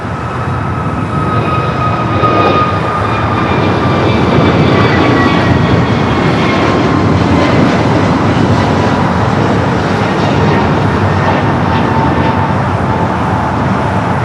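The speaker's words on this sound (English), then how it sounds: "Flight heading to Chicago here that just took off. 2998 is that flight number, that A321neo." An Airbus A321neo jet takes off at LAX, its engines producing a loud, sustained roar with a rising whine that holds steady throughout, heard from nearby with no talking.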